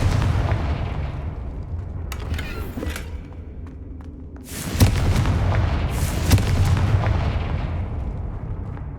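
A Confringo fire spell in the Hogwarts Legacy video game bursts with a loud booming explosion, followed by a second blast and rumbling fire over a low continuous background.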